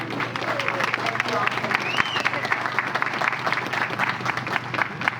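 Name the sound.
audience applause for the cast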